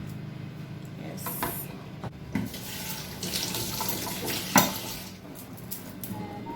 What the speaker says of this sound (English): So I'm gonna strain it.